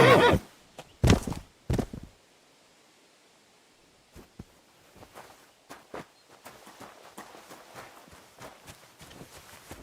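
Inside the medieval game Kingdom Come: Deliverance 2, a horse whinnies loudly and sharply up close. Hooves then thud and clop in scattered steps, growing busier as they go on.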